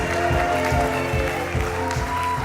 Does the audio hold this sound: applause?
yes